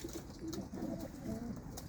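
Domestic flying pigeons, including a white hen, give low, throaty coos in a soft, repeating rhythm, close by and fairly loud, with no talk over them.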